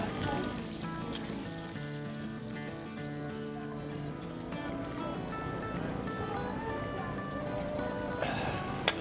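Brown butter sizzles and crackles steadily in a hot pan while sauteing flounder, a continuous frying hiss at moderate volume with faint background music.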